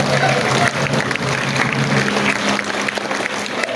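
Loud audience applause at a symphony orchestra anniversary concert, dense clapping from a large crowd close by, holding steady and easing slightly toward the end, with a voice faintly mixed in.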